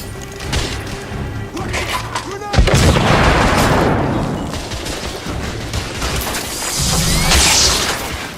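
A thrown frag grenade erupts in a heavy crash amid gunfire during a London street battle in The Order: 1886, with booming blasts, debris and shouting voices blended into continuous loud combat noise.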